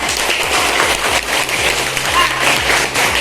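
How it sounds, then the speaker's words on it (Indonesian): Students in an Indonesian primary school classroom clap for classmates after a role-play, giving close, loud, busy applause with distinct individual hand claps and taps. "Kasih tepuk tangan untuk semuanya"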